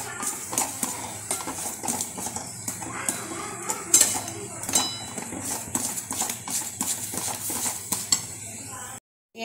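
Chhena simmers in sugar syrup in a pan while a utensil repeatedly scrapes and knocks against the metal in a steady stirring rhythm, ending in a brief silence.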